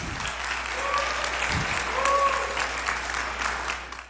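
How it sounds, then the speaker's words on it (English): An audience bursts into applause after a mayor's remarks on tax policy, a dense, sustained round of clapping from a crowd, fairly loud and close, with a few faint voices underneath. "this got a big round of applause"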